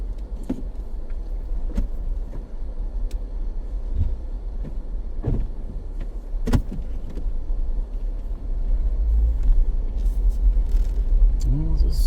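A four-wheel-drive vehicle in 4 High rolls along a gravel road, its low engine rumble and tire crunch steady throughout, with occasional knocks and clicks and people talking inside the cab.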